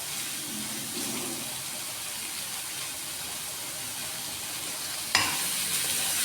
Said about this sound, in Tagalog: Haluin lang natin. Para na ma-absorb yung lasa doon sa loob ng gulay.